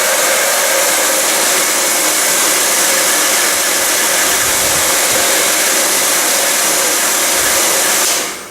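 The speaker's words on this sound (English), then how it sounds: "So, go ahead and take your blow dryer," A blow dryer blows a steady, loud, close roar of hot air over a rhinestone decal with metal-backed stones, running alone without pause before cutting off at the very end.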